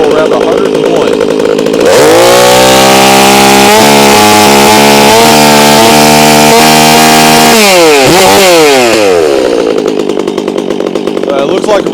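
A Stihl MS362C chainsaw fitted with a barkbox muffler runs very loud and close. It idles, then revs up sharply into a high, sustained buzz, drops back with a quick blip around eight seconds and settles toward idle.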